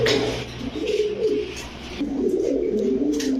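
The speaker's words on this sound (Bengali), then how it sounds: "দর্শক দেখেন কবুতরগুলো একদম ফুল ঝোপ্পা মুজা কবুতর" Feather-footed fancy pigeons coo nearby, with low, throaty rolling calls that repeat in overlapping bursts, loud and close with no speech.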